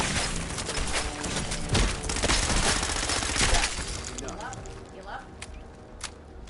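Gunfire hits the Mirelark Queen in a game at the castle, a dense near-continuous volley of loud shots that thins out toward the end, with a voice talking over it.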